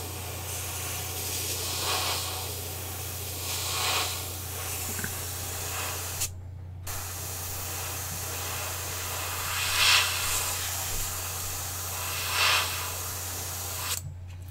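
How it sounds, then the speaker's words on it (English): A spray gun sprays thinned paint in long hissing bursts over a steady low hum, with a few brief pauses between passes and no talking. "this stuff is spraying like crap right now"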